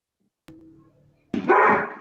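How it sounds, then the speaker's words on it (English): Dogs bark in a home during a city council meeting call: one short bark, a pause, then a louder, longer bark burst, with no talk over them. "I knew I was gonna have barking dogs."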